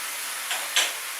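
Blueberry-blanching pot boiling over on the stove gives two short, faint hissing sizzles, the second a bit louder, over a steady low background hiss.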